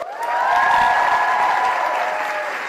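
Audience applause and cheering at a public event honoring a Houston nurse, a sustained dense roar of clapping with whoops and shouts carrying over it, loud throughout.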